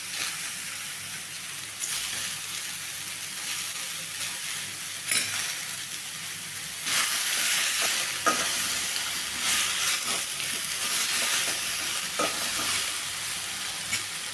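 Tomatoes sautéed in a pan for ridge gourd thuvaiyal give a steady, close frying sizzle, with a spoon stirring and scraping at irregular intervals and the hiss swelling louder in the second half.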